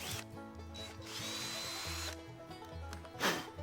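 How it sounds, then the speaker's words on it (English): A power drill with a 5/16 bit whirs in short bursts into a tree to make a sap tap hole, with a brief rough grinding scrape near the end. "I'm using a 5/16 drill bit"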